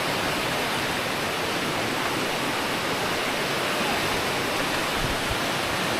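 Strong floodwater rushing over a fishpond, a loud, unbroken roar of turbulent water filling the whole span, with no pauses or distinct events.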